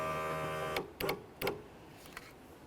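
A power window motor on a 2001-2005 Ford Explorer Sport Trac whirs as it drives the regulator down, then stops, followed by a few sharp clicks and clunks.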